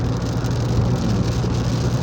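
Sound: rain falling

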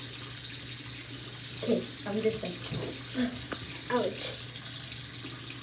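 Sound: warm water running from a tap

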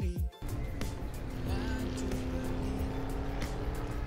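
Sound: car speeding

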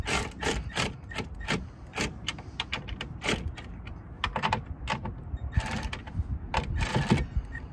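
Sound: gently tightening mirror nuts on a Chevrolet Silverado

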